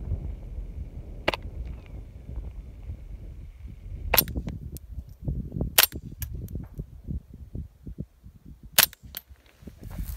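A factory-barrel Ruger 10/22 rifle with a GSL Tech Pillbox suppressor fires subsonic rounds, giving five or six sharp, clipped cracks at irregular intervals over a low outdoor rumble.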